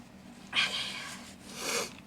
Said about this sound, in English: Now I have to blow my nose, excuse me.